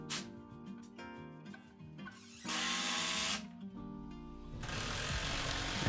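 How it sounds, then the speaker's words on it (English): A power drill drives fasteners through gusset angles into a wall for a homemade squat rack, with short stop-start bursts of whirring motor, some louder sustained runs, close and clear with no talk. "here I'm just fastening everything to the wall using the same gusset angles"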